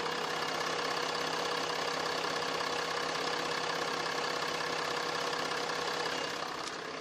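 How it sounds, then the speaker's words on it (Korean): A large 3000cc engine of a Land Rover Discovery 5 SUV idles steadily, a smooth continuous rumble with a faint mechanical knock, close by and unchanging throughout. "내구성까지 뛰어난 이 엔진 바로 엔진 소리 한번 들려드릴게요."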